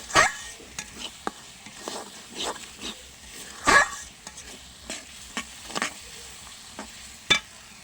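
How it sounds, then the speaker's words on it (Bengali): Spice masala for biryani frying in oil in a pan, heard as scattered sharp scraping stir strokes and spatters over a faint sizzle, close by with no talk. "মশলাটা খুব সুন্দর করে ভাজা ভাজা করে কষিয়ে নিয়েছি।"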